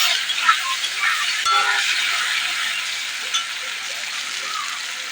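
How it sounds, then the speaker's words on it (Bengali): Peeled taro stolons frying in hot oil, a steady bright sizzle running throughout with faint clinks of utensils against the pan, while a brief low voice occasionally surfaces beneath the hiss. "যেহেতু আমি কচুর ছড়াগুলিকে আগে থেকে ভেজে রাখিনি, তার জন্য আমি ওই তেলে ভেজে নেব।"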